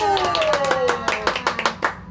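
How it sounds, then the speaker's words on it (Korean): Small group clapping at a book-reading talk, a short burst of sharp hand claps from a few people, with a voice speaking over the start. "박수!"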